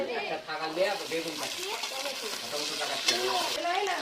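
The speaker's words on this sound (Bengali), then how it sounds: "আমার আলুগুলো কষা হয়ে গেছে, এই দেখো ভালো করে ভাজা হয়ে গেছে। আমি এবার মটরশুঁটিটা ঢেলে দিচ্ছি।" Potatoes and peas fry in a pan with a steady sizzle and repeated stirring scrapes, while a voice talks over the cooking throughout.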